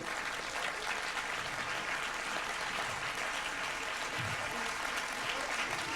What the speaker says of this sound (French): Retrouvons maintenant Julia Bacha, qu'on peut applaudir pour son film.